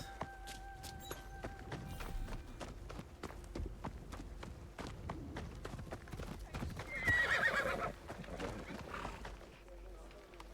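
Horse in Assassin's Creed Shadows galloping with rapid, steady hoofbeats close by, breaking into a loud whinny midway, with music tones and speech around it.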